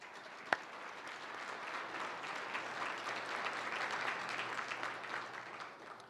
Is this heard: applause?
yes